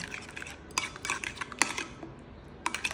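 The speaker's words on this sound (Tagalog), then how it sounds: "So I let it stir, and then I will apply to my hair later." Spoon clinking and scraping against a bowl while a homemade four-ingredient hair mixture is stirred, in a few short, close, fairly soft bursts with quiet pauses between.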